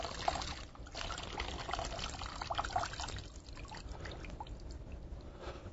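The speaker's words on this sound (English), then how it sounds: "let me just wring out the rest of this." Water dripping and trickling from a Sure to Grow hydroponic insert as it is wrung out by hand, a steady close patter of drips and dribbles throughout with no talking.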